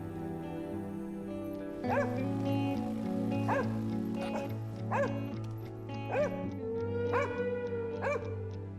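A dog barks repeatedly in a steady series of sharp, close yelps over a droning background, with a few whimpering notes near the end and no voices heard.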